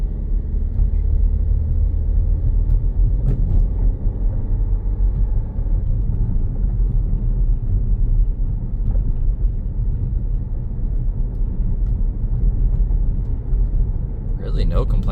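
Steady low engine and road rumble from inside a moving 2020 Volkswagen Tiguan 2.0T 4Motion during hard braking, continuous throughout, with no distinct braking sound standing out.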